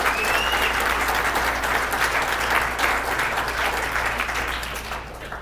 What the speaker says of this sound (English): with a really big round of applause